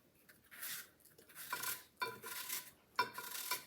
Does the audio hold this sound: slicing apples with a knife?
yes